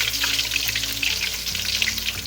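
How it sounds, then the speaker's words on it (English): Whole fish frying in hot oil for Filipino escabeche, a steady dense sizzle and crackle running without pause at moderate loudness, with no talking. "So fish is almost done here for frying."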